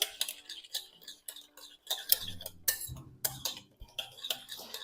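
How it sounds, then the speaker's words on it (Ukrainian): Salad dressing of salt, mustard and olive oil stirred by hand in a dish, with brisk scraping and clinking of a utensil against the bowl in uneven bursts and a few soft dull knocks. No one speaks. "гірчицю і оливкову олійку. Усе гарненько перемішую."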